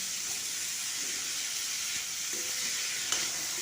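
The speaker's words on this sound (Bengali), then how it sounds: "ততক্ষণ আমি এটাকে নেড়ে নেড়ে অল্প অল্প তেল ছড়ি ছড়ি ভেজে নেবো" Mushrooms fry in a little oil as they are turned in the pan, a constant close hiss and sizzle with faint stirring scrapes and one small clack, no voices.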